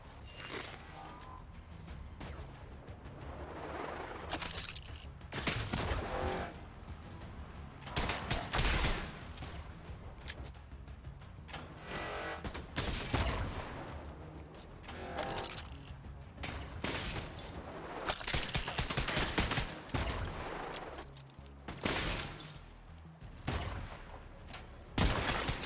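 Artillery turret fire in the Destiny 2 shooter game: loud, heavy blasts and booming volleys in irregular bursts, mixed with crashing impacts over a continuous background of combat noise.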